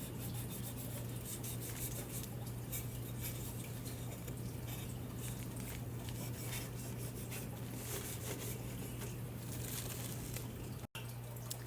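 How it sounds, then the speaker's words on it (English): A rag rubbing translucent paint back on a ceramic Easter bunny gives a steady, close, soft rasping scrub with a low hum beneath it, and no talking. "using a rag, start pulling back, just start rubbing it"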